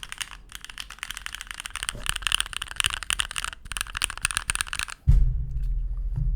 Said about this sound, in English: So I have a red Gateron Milky Red Pro on my keyboard installed.